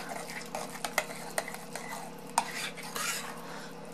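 A spoon stirring a mixture in a bowl, quick rhythmic scrapes and several sharp clinks of metal against the bowl, close and fairly quiet with no talking.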